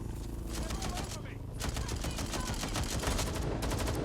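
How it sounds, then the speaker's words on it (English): Rapid bursts of automatic gunfire in the video game Watch Dogs: Legion, dense overlapping shots crackling loudly for several seconds with a brief lull, a voice talking over the shooting. "I can't tell where the bullets are coming from."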